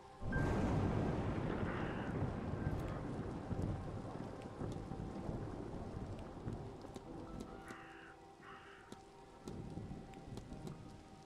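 Steady heavy rain pours in a video game thunderstorm scene at a manor, with rolling thunder booming loudly at the start and fading into a constant wash of rainfall.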